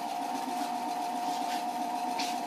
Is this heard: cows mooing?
no